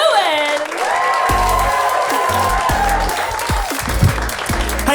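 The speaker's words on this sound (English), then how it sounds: "Keep that applause going" A stand-up comedy audience claps loudly and steadily, with some cheering, as the next comedian is welcomed to the stage, while a voice talks over the applause.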